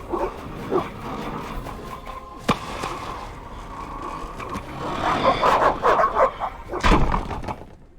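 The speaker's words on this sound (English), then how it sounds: "The dogs will tear her apart." Dogs bark in a village scene from the video game The Witcher, several sharp barks and growls over a busy background with clatter and bangs, growing louder toward the end.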